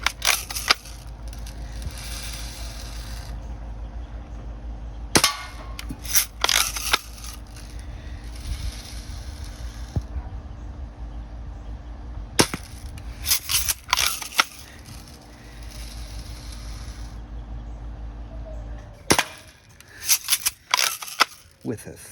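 A standard-power Daisy BB gun fires at reset targets, sharp snapping shots and pinging hits coming in quick clusters separated by quieter pauses, with a low background hum.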